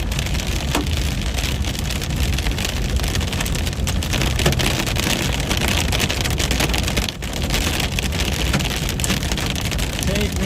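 Hail pounds a vehicle during a tornado-producing storm near North Platte, a dense, steady roar of impacts that is loud and continuous throughout.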